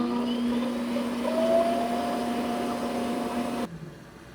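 An Eufy E25 robot vacuum's base auto-empties the dustbin with a steady loud whirring motor drone and a faint rising whine, close by, cutting off sharply near the end.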